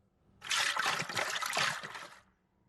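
Water sloshing and trickling inside Lok, a waterlogged robot character in Fortnite, as he is shaken: a single close burst of gurgling liquid lasting under two seconds, then quiet.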